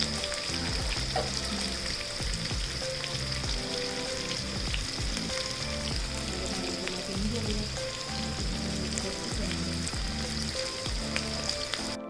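Onions frying in a pan for vegetable pulao, turning light brown: a steady, dense sizzle and crackle of hot oil that stays close and even throughout, with no talking over it.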